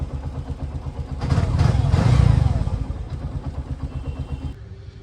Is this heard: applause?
no